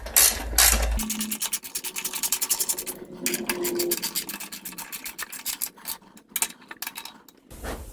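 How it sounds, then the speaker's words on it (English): Close ratcheting and scraping of a 3/8 socket wrench backing out bolts on the top cover of a 2002 Craftsman Tecumseh 4.25 HP engine, a steady run of quick clicks with short pauses and metallic rasps. "3/8 socket on these bolts in the back on this top cover"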